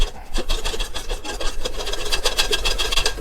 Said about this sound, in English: we're going to whisk that together